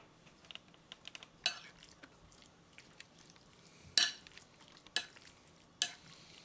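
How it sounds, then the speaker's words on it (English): A spoon stirs and folds chicken salad in a bowl, giving soft, quiet scraping and squishing strokes with four sharper, louder scrapes spaced a second or two apart. "so we're going to season this now, or stir this rather."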